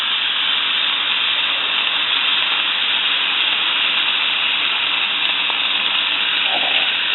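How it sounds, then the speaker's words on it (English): Shrimp sizzle in a hot skillet, a steady, loud, unbroken hiss of frying that holds at constant level throughout with no voices. "So you just want to add the shrimp to a nice hot skillet."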